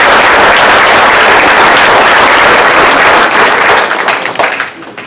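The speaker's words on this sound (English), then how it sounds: "Give a round of applause to Supervisor Parker." An audience gives a round of applause for a county supervisor at a Monterey County Women's History Month event, dense steady clapping that holds for several seconds and then thins out and fades toward the end.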